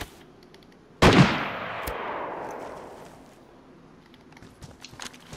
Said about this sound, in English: Just open fire with your AK.